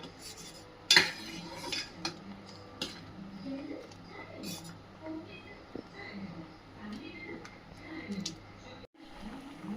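A metal spoon scrapes and clinks against a pot of simmering chilli-powder curry in irregular strokes, quiet and close, with faint background noise.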